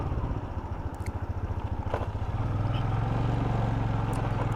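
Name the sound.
motorcycle riding on mountain roads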